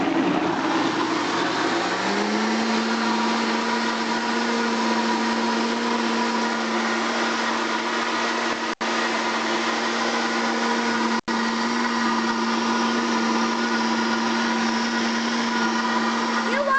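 Blender whirring steadily while making a strawberry banana smoothie, a loud, continuous motor drone close up, rising in pitch shortly after starting and running for the full span with two brief dropouts.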